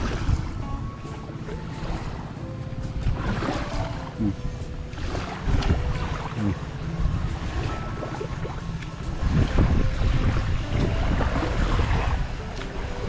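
A boat moving on open water off Burias Island, with steady engine drone, sloshing waves and wind rushing close by, continuous and moderately loud, with some voices mixed in.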